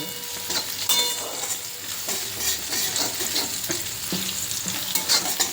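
A Kathiyawadi vaghar tempering with green chillies and ginger sizzles in a pan for vagharelo rotlo, a close, steady frying hiss broken by repeated scraping spatula strokes as it is stirred, with no talking.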